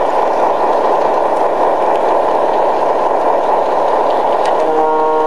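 A model railroad train runs along a layout's track with a steady rumbling motor drone and faint clicking, loud and continuous throughout with no talk.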